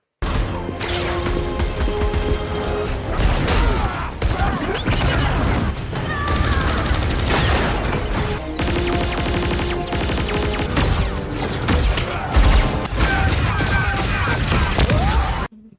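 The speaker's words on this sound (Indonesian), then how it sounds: "Pada akhirnya terjadi baku tembak yang sangat epik di antara mereka, membuat tempat tersebut hancur." A dense film gunfight rages throughout with rapid gunfire, crashes and smashing debris as the place is destroyed, loud and continuous, with a voice speaking over parts of it.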